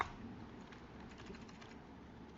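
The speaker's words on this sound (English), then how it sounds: "I'm typing title." Keys clatter softly and steadily on a computer keyboard, a faint, continuous run of light taps with no speech.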